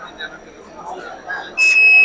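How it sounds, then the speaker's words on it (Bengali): An LPG gas sensor alarm's buzzer cuts in near the end with a loud, steady electronic tone after a stretch of voices talking. "সেন্সরটি সেই গ্যাসটি সেন্স করে অটোমেটিক্যালি এই ইলেকট্রিসিটি বন্ধ করে দিচ্ছে এবং একটি বাজার দিচ্ছে"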